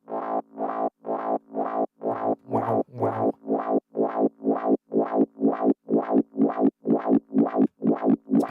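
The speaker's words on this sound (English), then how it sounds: "For example, this fuzz bass. Listen to how this sounds over time. This is happening mostly with the auto filter plugin." Fuzz bass processed through an auto filter with automated frequency and resonance, forming a steady train of about sixteen evenly spaced, throbbing pulses whose tone shifts and grows more pulsing over time, loud and alone.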